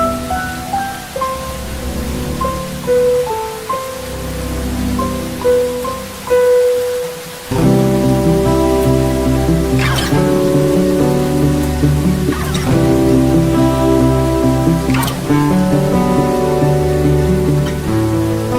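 Steady rain hisses continuously throughout, a dense even wash of falling water heard under tonal music that shifts partway through.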